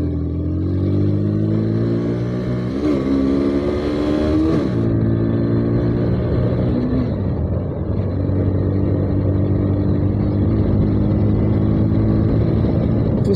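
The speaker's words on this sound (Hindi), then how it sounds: "ऊपर नवाब राइडर, और मीरा है अपनी बाइक के ऊपर, मैं हूँ खुद की बाइक के ऊपर।" A motorcycle engine drones and revs loudly up close, pitch rising and falling with the throttle, while riding across the slippery Bakhasar Rann of Kutch, with steady wind noise.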